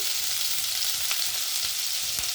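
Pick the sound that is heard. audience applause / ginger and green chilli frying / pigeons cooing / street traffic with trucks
ginger and green chilli frying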